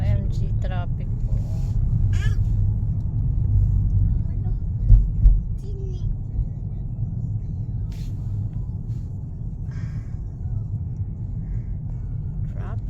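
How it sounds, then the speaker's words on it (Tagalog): Road traffic in California near the Golden Gate rumbles as a low, continuous roar of car engines, with a couple of louder thumps midway and people chatting throughout. "OMG traffic po."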